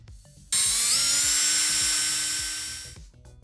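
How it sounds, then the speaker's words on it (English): A drill bores a small pilot hole in a Honda ignition cylinder plug, a single loud, close, high-pitched whine lasting about two and a half seconds that slowly fades before stopping. "So what we're going to do to get this roll pin out is drill a small hole right here."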